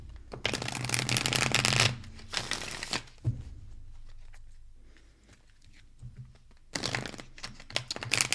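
Playing cards are shuffled in several loud bursts of rapid riffling and crisp flutter, separated by quieter handling sounds.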